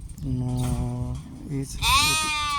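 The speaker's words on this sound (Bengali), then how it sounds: "দেখেন ছাগলের খামারগুলো অনেক উন্নত জাতের ছাগল এখানে" Several goats of improved breeds bleat close by, one after another, their wavering calls overlapping in a lively farmyard chorus at a goat farm in the Saudi Arabian desert.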